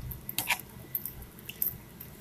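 Beef tips in thick gravy are stirred in a pot, giving a few soft wet squelches and light clicks of a spoon, faint and close, with no talk.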